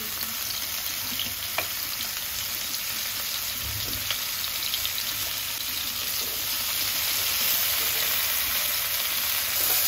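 Cauliflower pieces fry in a shallow layer of oil, a steady soft sizzle with faint occasional stirring clinks, continuous and fairly quiet throughout with no talking.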